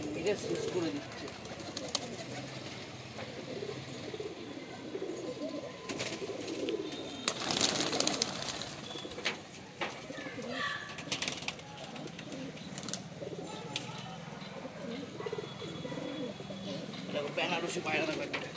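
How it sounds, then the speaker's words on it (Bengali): Benarasi pigeons cooing in a loft, soft low murmurs repeating through a long stretch alongside occasional wing flaps and handling noises, with people talking nearby. "বেনারসি পায়রা"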